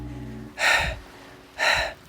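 Two deep, forceful exercise breaths during a barre workout at a heel-raise, each a breathy rush lasting about half a second, close to the microphone with quiet pauses between.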